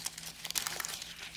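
Sheets of baking paper crinkle and rustle as they are handled during a cooking-recipe journal craft project, a close, busy run of papery crackles with no speech.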